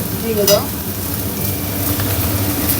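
Onion fries in a kadai with a steady, close sizzle and occasional stirring scrapes, a dense crackling hiss that stays even throughout.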